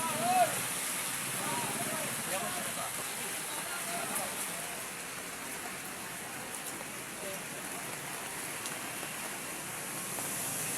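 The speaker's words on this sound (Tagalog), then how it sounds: "Malakas kasi ang ulan, no, pabugso-bugso." Heavy rain in Manila pours steadily and densely throughout, a constant close hiss, with a voice briefly audible near the start.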